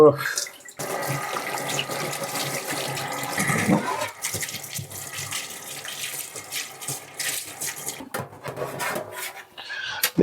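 Dishes being washed under a running kitchen tap, with steady water flow and clattering and rubbing of utensils throughout, briefly interrupted near the start.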